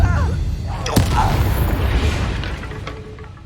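A Depulso spell blast fired in Hogwarts Legacy lands as one sharp, heavy boom near the start, its rumble trailing off under a steady low roar of battle, with a voice chanting the incantation just beforehand.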